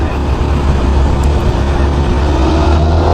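Honda CB500SF four-cylinder street motorcycle engine running loud and close at steady high revs, a dense continuous roar with strong low rumble and broad rushing wind noise, no clear break for a shift within the stretch.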